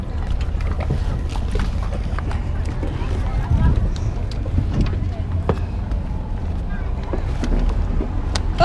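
A small boat motor chugs steadily off Sardinia with water splashing and wind buffeting the microphone, while voices talk intermittently over it.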